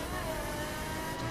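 Race car engine in The Crew driving game, a car capable of about 410 km/h, droning and revving steadily at close range with no voices over it.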